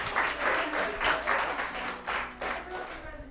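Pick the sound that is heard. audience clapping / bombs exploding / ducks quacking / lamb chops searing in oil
audience clapping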